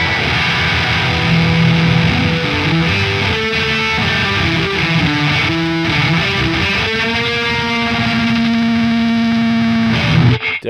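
An electric guitar played through the Neural DSP Archetype Tom Morello distortion preset rings out loud and saturated, a run of sustained, bending distorted notes with reverb and delay trailing into a final cutoff.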